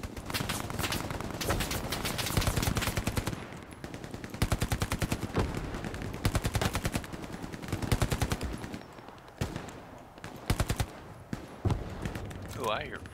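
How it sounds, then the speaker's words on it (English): Rapid gunfire crackles through a World War II battle in Hell Let Loose, with repeated bursts and single shots from close and far, while someone talks over the fighting. "somebody shooting me from the back"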